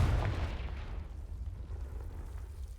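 A Confringo blasting spell explodes in Hogwarts Legacy: one heavy boom at the start that fades into a low, rumbling tail.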